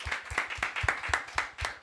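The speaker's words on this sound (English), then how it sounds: "Can we have a round of applause for Will there" A small audience claps for a speaker at an academic awards event, sparse and distinct hand claps in a loose quick rhythm, fairly close.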